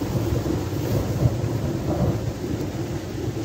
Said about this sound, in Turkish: Şu anda gök gürültü sesi de yukarıdan devam ediyor.